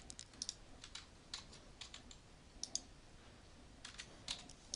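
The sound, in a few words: typing on a computer keyboard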